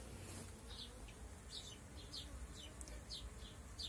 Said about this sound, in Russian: Пчелки работают.